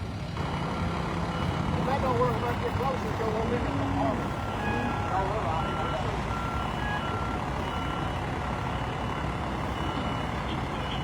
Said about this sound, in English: we're getting ready to move the fire truck